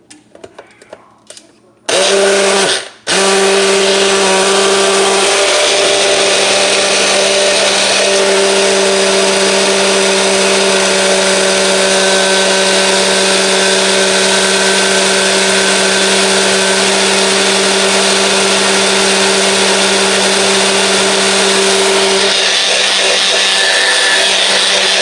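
A regular hand blender whirs steadily while mixing homemade mayonnaise. It starts abruptly after a short pause and runs loud and continuous for about twenty seconds, with a steady motor hum.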